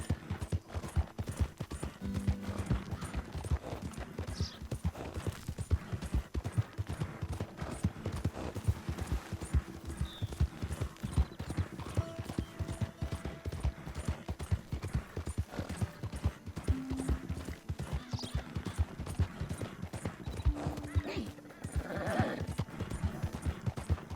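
Horse hooves clip-clop in a steady walking rhythm while riding through the Red Dead Redemption 2 game world, with faint ambient game sounds and an occasional whinny behind.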